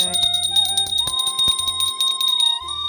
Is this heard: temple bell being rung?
yes